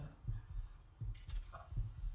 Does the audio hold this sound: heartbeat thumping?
yes